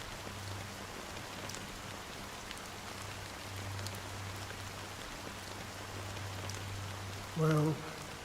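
Steady rain falls in a Honkai: Star Rail cutscene, an even hiss of drops that continues throughout alongside a low hum, with a short voiced sound near the end.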